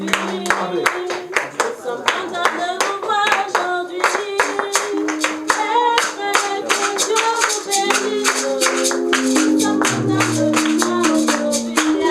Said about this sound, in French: Acclamez-les très fort.